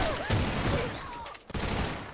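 Rapid automatic fire from an ACR Black Commando rifle in the shooter AVA, a dense burst rattling near and loud across the clip with a brief pause before resuming.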